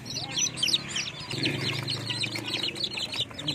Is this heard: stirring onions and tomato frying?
no